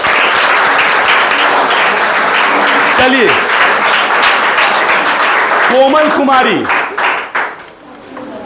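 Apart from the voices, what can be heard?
applause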